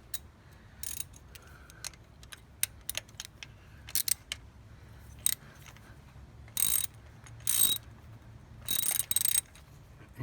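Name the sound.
ratchet tightening spark plug in 2003 Toyota V6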